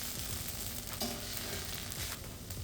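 Keto pasta warms through in a pan on the stove, giving a soft, steady sizzle and frying crackle with occasional stirring scrapes, faint and close with no talk.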